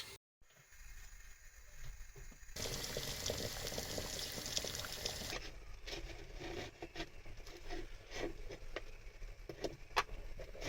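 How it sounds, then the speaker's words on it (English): A pot of water for boiling eggs bubbles inside a campervan, starting after a few quiet seconds as a loud rushing burble, then settling into a softer steady bubbling with scattered ticks and small knocks. "let's go and boil some eggs"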